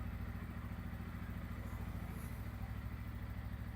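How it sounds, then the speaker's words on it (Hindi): A Bajaj Pulsar N160 BS6 motorcycle with a starting problem runs at a steady, even idle close by, a continuous low throbbing putter with faint clatter and no voices. "इग्निशन ऑन और करते हैं बाइक को स्टार्ट। तो बाइक हमारा स्टार्ट"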